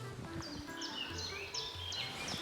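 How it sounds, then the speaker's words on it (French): A common chiffchaff sings along a canal towpath, its repeated two-note chiff-chaff phrases sounding at a steady pace over faint background hum, fairly distant and without talk. "Vous entendez là? C'est le pouillot véloce."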